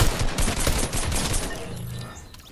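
Rapid gunfire in the video game Fortnite, a loud dense burst of repeated shots that thins out and fades toward the end, with no talk over it.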